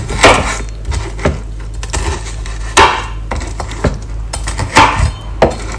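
Frozen fish being chopped into small pieces on a cutting board for a small blender, several sharp knife thuds at uneven intervals, close and fairly loud, with light clatter between strokes.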